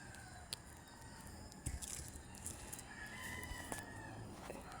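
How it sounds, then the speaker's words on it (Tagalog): A rooster crows at midday somewhere outside, faint and distant, rising over a low background hiss with scattered soft knocks nearby. "Pero may ingay pa rin yung manok."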